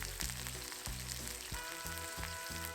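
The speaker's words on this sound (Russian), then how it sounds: "Наливаем в сковородку немного растительного масла и слегка поджариваем с 2 сторон" Constant crackling sizzle of meat searing on both sides in vegetable oil in a pan, close and steady, with faint low tones humming underneath throughout.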